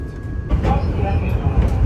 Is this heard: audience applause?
no